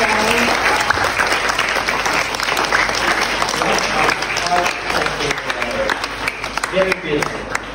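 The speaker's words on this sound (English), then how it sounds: "Give a round of applause for Kaka today." Loud, dense applause fills a school assembly hall for a performer, steady clapping from many hands with brief voices and cheers mixed in.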